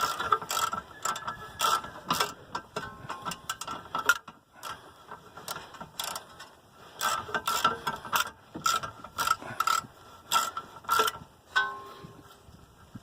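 A hand ratchet tightens a rear brake bolt on a 1991 Honda Accord, a close series of rapid clicking bursts with short pauses between strokes, alone without talk.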